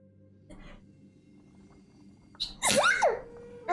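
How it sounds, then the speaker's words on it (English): A single loud, close sneeze bursts out near the end of a quiet stretch with faint background sounds. It breaks into a sharp, breathy release. "I'm sorry, I sneezed."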